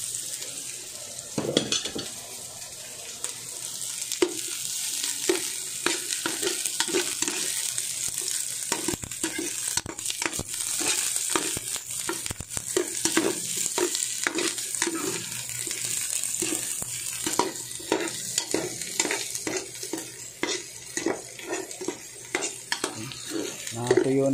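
Onions fry in oil in a pan for a lomi dish, giving a steady close sizzle broken by frequent scraping stirs and the occasional clink of a utensil against the pan.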